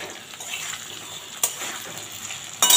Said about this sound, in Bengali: দেখো আলুগুলো মোটামুটি ভাজা ভাজা হয়ে গেছে,